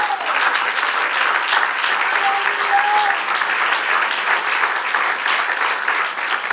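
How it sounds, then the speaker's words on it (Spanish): A church congregation applauds steadily throughout, a dense, even wash of many hands clapping with no break. "Dale un aplauso"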